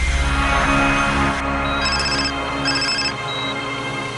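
A mobile phone ringtone sounds in two short, bright electronic bursts, close and clear over a low background hum, with no one talking.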